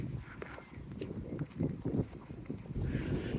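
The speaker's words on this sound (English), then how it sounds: "Definitely on the windy side today." Gusty wind rumbles and buffets against the microphone outdoors in Teignmouth, a low, uneven roar that swells and drops.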